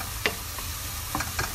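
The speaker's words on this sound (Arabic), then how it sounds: "يعرق البصل ليه ما يستوي لونه شفاف" Onions sweat and fry gently in oil for Kuwaiti chicken machboos, a soft steady sizzle with a few sharp scrapes of stirring spaced through it, close and quiet, with no talking.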